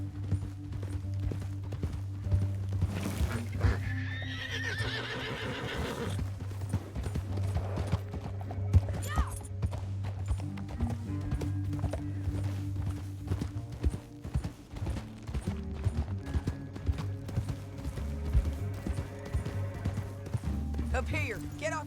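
Horse hooves clip-clopping at a gallop in the video game Red Dead Redemption 2, a steady rapid rhythm under a low droning score, with an occasional whinny and characters talking over the riding.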